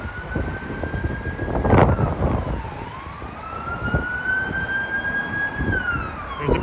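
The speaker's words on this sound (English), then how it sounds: "There's a police car on scene." A Toronto police car siren wails on a busy North York street, its rising and falling tone steady over traffic rumble and passing vehicles at moderate distance.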